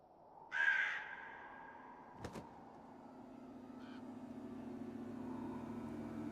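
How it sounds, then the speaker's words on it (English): A crow caws once, sharp and fairly close, in the spooky manor grounds of the video game The Séance of Blake Manor, followed by a brief clatter over a low, steady ambient hum. "Another crow."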